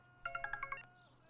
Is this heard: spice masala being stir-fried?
no